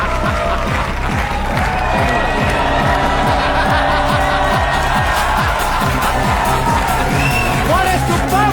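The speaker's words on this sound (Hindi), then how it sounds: "जोरदार तालियां।" Studio audience of a Kapil Sharma comedy show applauding and cheering loudly, dense clapping with whoops and shouts, while music with a steady beat plays alongside it.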